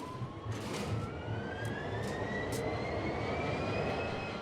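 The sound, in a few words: train engine running in video game Train Sim World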